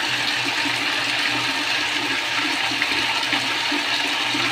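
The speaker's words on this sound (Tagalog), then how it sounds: "Pag tinodo po natin to hanggang gitna, lalakas po yung faucet natin." A faucet opened to high pressure roars in a continuous, loud, dense rush of water, close by and unchanging from start to finish, with no voices.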